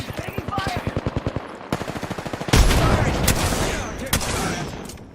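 Rapid automatic gunfire in a sci-fi shooter video game, bursts of machine-gun fire in quick succession, loud and close, then a heavier sustained barrage with sharp shots cutting through, with voices calling out over the fighting.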